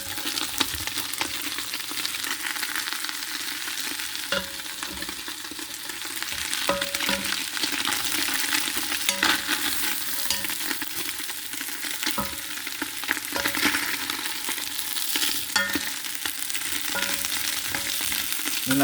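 Vegetables stirred into a pot of steaming chicken and rice soup, a continuous sizzling hiss with scraping stirring strokes and occasional clinks of the utensil against the pot, steady and close with no talk.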